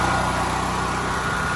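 A warmed-up Firman 9400 dual fuel generator runs loud and steady just after electric starting, with an even mechanical drone and a bright engine hum close by, with no talk.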